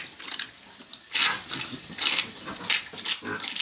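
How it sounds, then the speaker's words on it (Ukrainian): Sow eating her morning feed on a farm, wet slurping and splashing mouthfuls in irregular bursts, close and fairly loud, with no talking. "Ось наша льоха покормила поросяток і зараз піде доїдати свою порцію вранішню"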